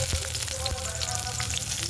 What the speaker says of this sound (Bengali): তো প্রথমে উচ্ছেগুলো ভেজে নেব।